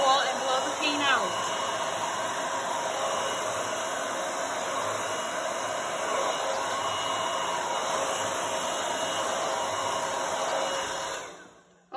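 A hair dryer set to high and cool blows steadily across wet paint, a loud, even rushing whoosh that runs nearly unbroken close to the mic before switching off abruptly at the end.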